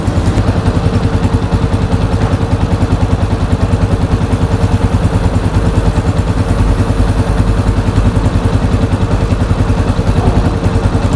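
A Honda CG 125 motorcycle engine with an idle speed problem runs at a steady, loud, close idle with an even rapid pulse throughout.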